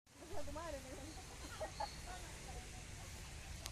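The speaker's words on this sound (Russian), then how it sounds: "гуси приплыли на кормежку" Geese honk as they arrive to be fed in a city park in Argentina, a few brief calls early on over a steady outdoor background hiss.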